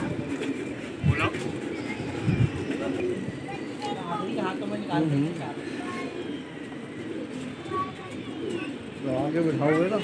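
Several fighter pigeons coo in soft, repeated throaty bursts close by, with people talking over them and some shuffling and bumping noises.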